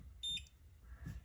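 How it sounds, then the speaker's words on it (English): A Dado Door Classic touch panel gives a short, bright electronic beep, close and clear, followed by a fainter second tone in a quiet room. "If you wanted to not have beeping every time you touched it or waved your hand over it"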